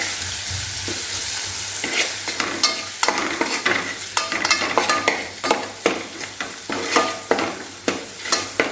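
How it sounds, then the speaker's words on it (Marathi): Masala spices sautéed in a pan while cooking Agri Koli–style mandeli fish curry: steady sizzle with a run of sharp, rhythmic spatula scrapes and stirs growing busier partway through, close and fairly loud, no voices. "आता हे आपल्याला व्यवस्थित मसाले परतून घ्यायचं आहे"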